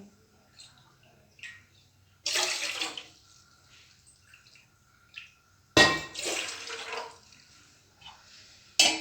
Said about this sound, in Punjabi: ਤਿੰਨ ਕੌਲੀਆਂ ਬਣ ਕੇ ਪਾਣੀ ਦੀਆਂ ਪਾ ਲਈਆਂ